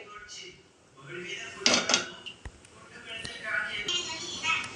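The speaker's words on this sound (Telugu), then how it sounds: "స్టవ్ వెలిగించుకుని ప్యాన్ పెట్టుకోవాలండి" A pan set down with a metallic clank on a lit kitchen stove, followed by light scraping and handling clatter, close by and under a talking voice.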